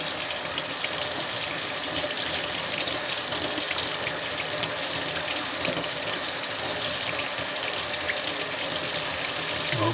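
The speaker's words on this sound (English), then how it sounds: "give them a little rinsing under the faucet" A kitchen faucet runs steadily as items are rinsed under the stream, giving a continuous close hiss and splash of water for the whole stretch, with no talking.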